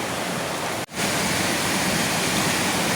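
Mother Falls at San Luis, Aurora Province roars with a dense, constant rush of falling water, loud and close, broken only by one brief dropout before the steady wash resumes.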